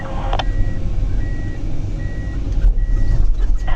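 A dangle head processor forestry machine rumbles steadily with its engine close and loud, while a repeating reversing beep sounds throughout and a few clanks ring out near the end.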